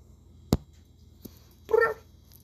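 A pet cat indoors makes one short meow after a sharp knock and a faint tick. The meow is close and clear against a quiet room.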